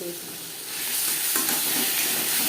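Onions fry with salt and turmeric in a pan for egg curry, a steady loud sizzle swelling after the first moments with scraping stir strokes, close and continuous with no voices.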